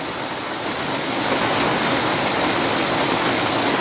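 A downpour in Comilla, Bangladesh, after a night of nonstop rain, making a loud, unbroken wash of drumming drops that stays level throughout with no talking.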